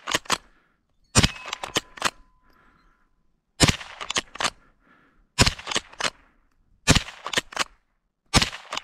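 A Winchester 62a rifle fires during sighting in and plinking. Six sharp, loud cracks ring out one at a time, spaced a second or two apart, with quiet gaps between them.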